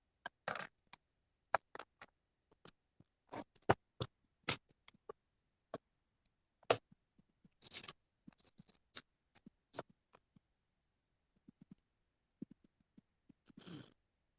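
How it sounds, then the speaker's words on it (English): Sharp, irregular clicks sound up close, scattered singly and in short bursts through a quiet background with no talking. "Sorry, I know you can hear the clicking"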